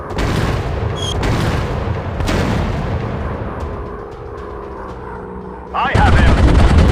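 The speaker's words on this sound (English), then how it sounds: "Dropping bombs." Bombs dropped from a World War I airplane in a video game, heavy booming blasts and rumbling gunfire rolling one after another, then a sudden loud roaring surge near the end.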